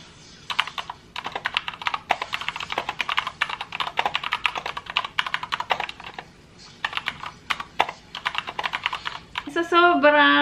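Fast continuous typing clatters on a Dareu Dream A87 mechanical keyboard, dense clicky keystrokes close up for most of the stretch, with a brief pause midway and a voice starting to speak at the end.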